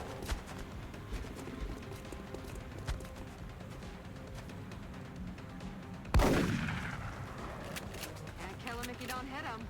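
Gunfire in the turn-based strategy game XCOM: Enemy Unknown, a single sharp loud shot with a ringing tail after a stretch of low ambient game sound, with speech nearby.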